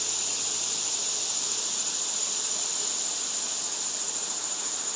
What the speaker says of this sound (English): By tuning into the sound of these cicadas and crickets.